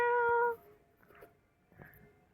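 A single short cat meow rings out clearly at the start, followed by faint, quiet rustling and low background noise.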